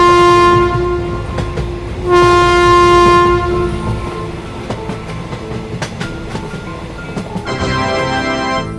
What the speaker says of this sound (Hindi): जैसे ही सोन इतना कहता है तभी ये ट्रेन यहाँ से जाने लगती है।